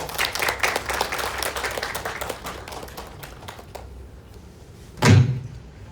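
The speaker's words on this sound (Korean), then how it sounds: "큰 박수 부탁드립니다." An audience at a briefing marking the first anniversary of Jeju's emergency medical support team gives a round of applause that fades out after a few seconds, followed by a single loud thump.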